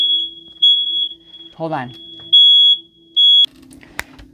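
Smoke alarm sounding loud, shrill repeated beeps, some short and some long, with a voice speaking briefly between them.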